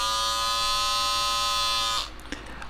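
Braun XT5 electric shaver running with a steady, thin, high-pitched buzzing whine, close and continuous, cutting off about two seconds in and followed by faint handling sounds.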